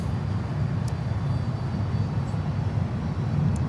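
A DHL cargo airplane at Miami airport gives off a steady, broad jet roar at moderate distance, holding a constant level without talk.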